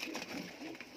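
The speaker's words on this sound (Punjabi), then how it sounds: "ਜੇ ਵੀ ਟੈਡੀ ਕਰੋਸ ਕਬੂਤਰ ਹੈ ਬਾਈ" A teddy cross pigeon, a young kalsira bird, gives soft, faint coos for about a second against a quiet, hissy background.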